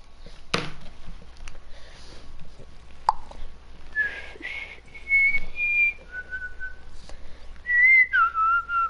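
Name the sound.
person whistling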